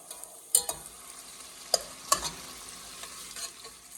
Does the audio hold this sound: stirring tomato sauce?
yes